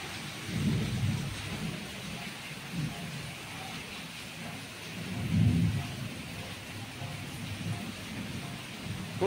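Heavy rain falls steadily during a downpour in Dwarka district, Gujarat, with low rolls of thunder rumbling at a distance and swelling twice before fading back under the constant hiss of the rain.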